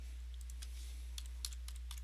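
Faint, sparse clicks of typing on a computer keyboard while entering login details into dialer software, a few scattered keystrokes over a quiet background with no talk.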